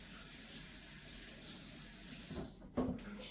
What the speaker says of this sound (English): Gonna give my spatula a quick little wash here.